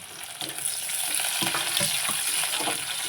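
Chopped green chilli and onion fry in a pan, a close, steady sizzle with brief stirring scrapes and spatula knocks over it.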